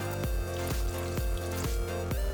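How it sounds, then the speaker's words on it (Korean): Salted watermelon rinsed in water for a Korean dish, heard as a regular rhythm of close wet splashes and drips, about five sloshes at an even pace. "절여진 수박을 깨끗이 물에 2번 헹궈서"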